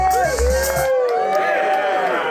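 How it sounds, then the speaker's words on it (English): A studio audience applauds and cheers for the crowning of Miss Republic of Cuervo Gold, a dense wash of clapping and whoops that swells loudly with bright music-like tones cutting in, then continues steadily to the end. "Give her a nice round of applause, Miss Anna Nicole Smith!"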